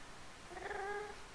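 A cat meows once inside the Minecraft video game, a drawn-out, wavering in-game mew standing clear and alone for about half a second.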